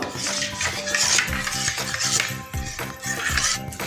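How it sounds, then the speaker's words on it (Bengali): A spoon stirring milk powder into hot water in a bowl to dissolve the lumps, close, loud repeated scraping and clinking against the bowl in an irregular rhythm, with no talking. "এবার আমি গুঁড়ো দুধটাকে গুলিয়ে নেবো যাতে কোনো রকম দলা না থাকে।"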